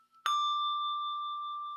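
A handbell pitched at C rings once, struck with the left hand during a studio session, its pure sustained tone fading gradually after a crisp attack, with no talking.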